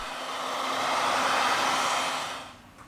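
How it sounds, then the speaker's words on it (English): A heat gun warms the screen of a Realme 6 phone, giving a steady close airy blowing roar that swells and then fades as it switches off. "With the help of the heat gun, we apply 19 Celsius degrees during 4 minutes."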